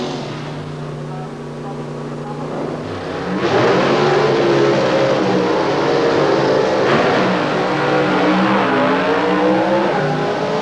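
Drag racing cars at the 1990 Willowbank Winternationals in Australia launching together off a pro start, engines roaring loudly and sustained under an excited commentator's voice.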